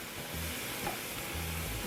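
Flat iron steak searing on a hot grill grate over an open fire, giving a steady, fairly quiet broadband sizzle and hiss throughout with no talking.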